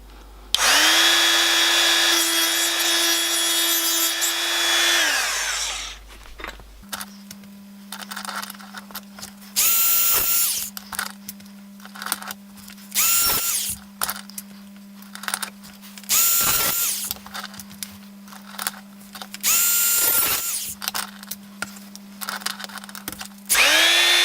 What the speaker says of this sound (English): I'm going to cut the needles with this little Clarkson drill and a very thin cutting wheel.